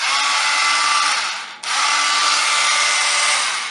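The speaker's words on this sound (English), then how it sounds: "Let's try the saw then." A GALAX PRO cordless circular saw runs at a steady high-pitched whine, loud and close, with one brief dip in the middle before it spins straight back up to full speed.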